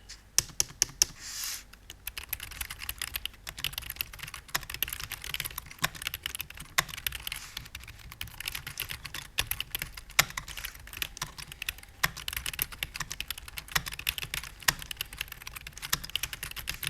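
Steady typing on a Logitech Wave Keys chiclet keyboard, a quiet, close run of soft irregular key taps with occasional sharper clacks and no voices.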